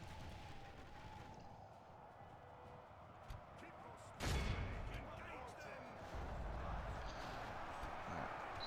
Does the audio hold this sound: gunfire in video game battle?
yes